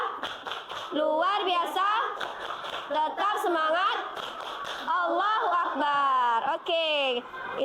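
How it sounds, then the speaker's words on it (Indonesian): A primary school class performs a rhythmic Indonesian spirit-clap routine, children chanting in sing-song unison between bursts of patterned hand claps, lively and close, with some giggling. "kita tepuk semangat"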